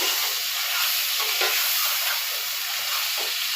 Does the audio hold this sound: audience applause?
no